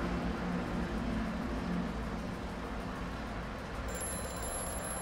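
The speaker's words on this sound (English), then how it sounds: "I'm gonna wait for the water to stop draining before I pick up the phone" A telephone rings inside a flooded room in the horror game Amnesia: A Machine for Pigs, a thin ringing tone that is largely buried under loud, steady rushing and draining water.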